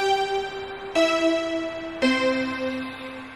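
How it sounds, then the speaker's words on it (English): Traditional Toronto streetcar gong rings three times at roughly one-second intervals, each a bright metallic strike with a long, sustained ringing decay, close and clear. "They also do have the traditional Toronto streetcar gong,"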